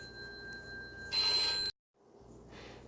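A mobile phone rings during a trail hike on the Appalachian Trail, a steady electronic ringtone with a sharper burst partway through before cutting off abruptly, followed by quiet outdoor background.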